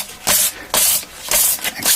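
Sandpaper rubbing along the frets of a Squier Affinity Stratocaster guitar, four bursts of close, raspy scrubbing strokes in an uneven rhythm with brief pauses between them.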